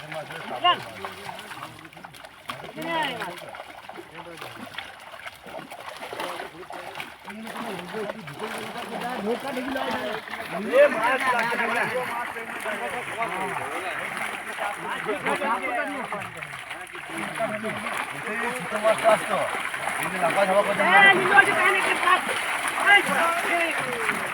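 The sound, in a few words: fish being released and splashing into water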